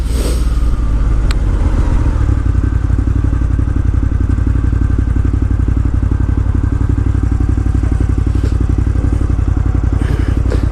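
A 2018 Ducati Monster 1200S engine runs steadily while riding, a loud, close, low throbbing rumble with rapid regular pulses that holds nearly constant throughout, with a few clicks and thumps.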